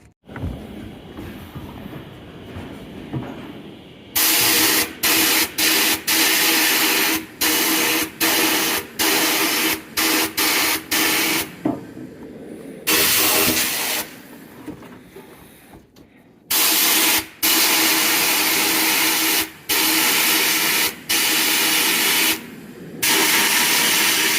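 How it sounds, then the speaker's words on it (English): Sandblasting a car oil pan, a loud steady blast of hissing air and grit in repeated bursts, cutting in and out with short pauses between runs, close and alone. "Alright, so we've got the oil pan blasted."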